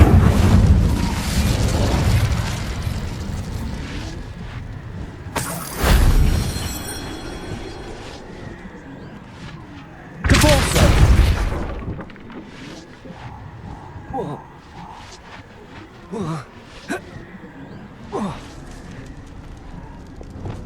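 Fire spells burst in a Hogwarts Legacy battle, heavy whooshing booms at a few points between clattering footsteps, impacts and scattered combat noise, with a voice calling out over the action.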